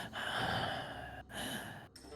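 A voice imitates ragged, struggling breathing during a tabletop role-play story, with three long rasping breaths broken by short pauses, fairly loud and close, with no talking.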